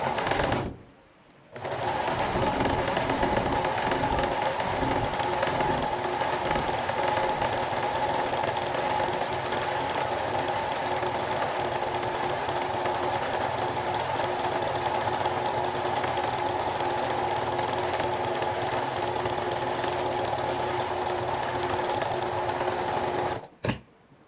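Sewing machine running a zigzag finishing stitch along a garment edge, a loud, steady mechanical whir lasting about twenty seconds without a break and starting and stopping abruptly.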